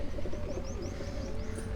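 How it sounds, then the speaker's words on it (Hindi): Pigeons kept by a fancier coo softly and steadily at close range, with faint chirps from other birds over a constant low background hum. "ये तारक साहब के हाथ में आप एक कबूतर देख रहे हैं।"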